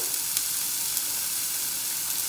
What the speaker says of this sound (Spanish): Sizzling, sizzling. You like the sizzling, Seria?